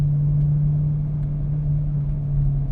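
A BMW E92 M3 V8 in a racing game drives at the Nürburgring, its engine holding a loud, steady low drone with a constant pitch and no audible gear changes.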